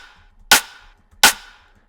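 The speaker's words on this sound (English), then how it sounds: "But altogether, the snares sound like this." Two loud, crisp layered snare hits in a UK-style bass music beat, each a sharp crack with a brief bright tail, spaced about three quarters of a second apart.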